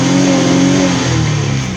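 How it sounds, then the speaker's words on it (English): Camper van engine revving hard up to the rev limiter, a loud close mechanical roar that holds briefly and then drops off as the revs fall. "It does hit the rev limiter."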